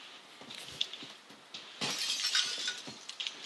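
Glass windows shattering in the shooter game Warzone, several crashing breaks with tinkling debris over about three seconds, the loudest burst midway, moderately close and heard alone without talk.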